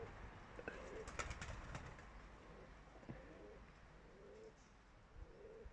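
A racing pigeon back from a 15 km flight coos softly in a loft, low murmuring calls amid faint rustling and a few light clicks, distant and quiet with no voices.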